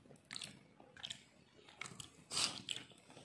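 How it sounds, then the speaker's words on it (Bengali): A person chewing salty pistachios shell and all, close crunching bites and chomps in an irregular rhythm, quiet with no talk over them. "এই যে বুবলাই খোসা সমেত খেয়ে নিচ্ছে"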